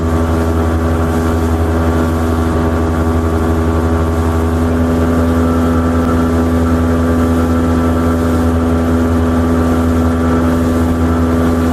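A 2022 Mercury 60 hp outboard motor runs steadily on a Starcraft boat, a loud, close, continuous engine drone with a constant tone and no speech.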